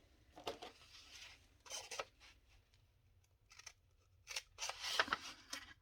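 Scissors snip out the corners of paper pieces for a handmade lap book junk journal, coming as several short bursts of close cutting separated by brief quiet gaps.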